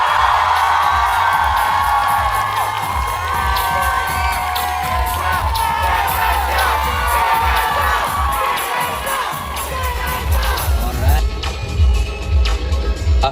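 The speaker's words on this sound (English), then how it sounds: "give us your biggest cheer!" A large Comic Fiesta convention audience cheers, whoops and shouts for a Harley Quinn contestant at a Birds of Prey cosplay competition, loud and continuous with shrill children's voices over a low PA hum, swelling again near the end.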